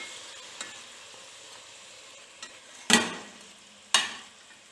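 Onion and spices frying in a pan for bitter gourd with potato make a low, soft sizzle, broken by a couple of sharp, loud clanks and scrapes as the mixture is stirred.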